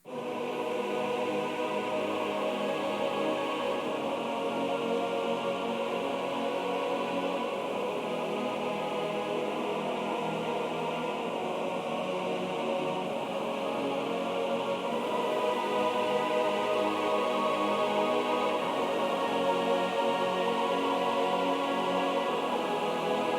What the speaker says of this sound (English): third pad I've used is the actually choir preset from the Nexus